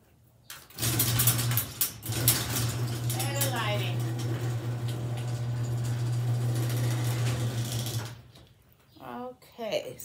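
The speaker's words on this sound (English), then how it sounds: "And I'm opening a big garage door for better." A large garage door rolls open with a steady mechanical drone lasting about seven seconds, then stops, leaving quieter room noise with brief voices.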